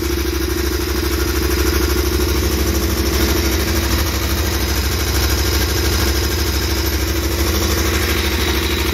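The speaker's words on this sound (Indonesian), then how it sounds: "Oke, ini bunyinya. Ciri khas KTM, bunyi mesin sedikit kayak mesin jahit." A KTM Super Adventure 1050 motorcycle with stock exhaust idles steadily and loudly up close, a continuous rattling drone with a faint ticking, sewing-machine-like clatter.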